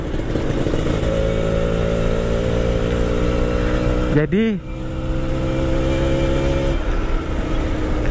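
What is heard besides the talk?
motorcycle engine revving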